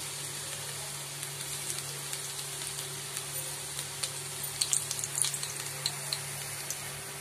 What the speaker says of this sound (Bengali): এবার আমি এতে রসুন কিছুটা যেটা কুচিয়ে রেখেছিলাম সেটা দিয়ে দিলাম